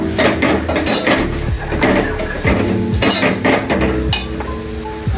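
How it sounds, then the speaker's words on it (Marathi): Coriander-cumin powder spice masala frying in a pan for a Konkan-style pomfret fish curry, heard as steady clinks and scrapes of a spoon stirring against metal over a continuous low sizzle, close and fairly loud, with no talking. "तर छान आपण हे फ्राय करून घ्यायचं आहे मसाला"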